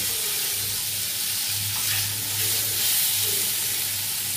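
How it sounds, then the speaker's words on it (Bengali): Soft paneer cubes frying together with spices in a pan, giving a steady, close sizzle and hiss that runs unbroken throughout, with faint stirring beneath. "দেখো আস্তে করে উল্টে উল্টে ভাজতে হবে, কারণ পনির তো খুব নরম আর সমস্তটা একসাথে দিয়েছি"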